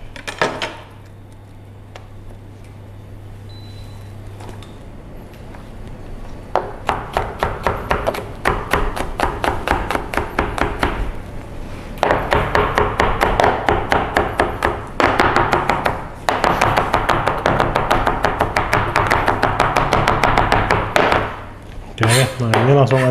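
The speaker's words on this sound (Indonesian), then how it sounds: "Nah, gue potong begini, oke. Bawang putih," Rapid, steady knife taps on a cutting board as garlic is chopped finely, close and loud in bursts over about twenty seconds with short pauses between runs.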